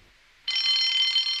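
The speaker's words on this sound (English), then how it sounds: "Soon came the alarm." A bright electric alarm bell starts abruptly after a short quiet moment and rings continuously at a steady, loud, close level.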